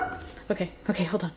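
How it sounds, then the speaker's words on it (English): A dog in a home kitchen gives a few short yips and whimpering barks in quick succession, mixed with a person speaking briefly nearby. "He's probably barking at the Amazon man."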